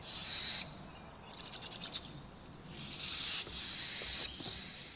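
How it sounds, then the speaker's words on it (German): Barn swallows scold an owl outdoors with harsh, high-pitched calls: long hissing screeches alternate with a quick run of sharp repeated notes, fairly faint and without voices. "Die Schwalben lärmen weiter, um mit ihrem Gezeter die Eule zu vertreiben."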